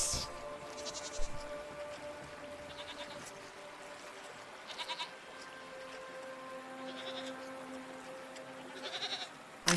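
Goats bleat several times in the video game Season: A Letter to the Future, short nasal calls recurring over a steady ambient music bed, moderately near and without talk.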